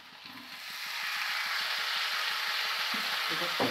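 Beef hits hot spiced oil for Kerala beef ularthiyathu and a loud, steady sizzle swells up and holds, close and continuous, with faint clicks from the pan underneath.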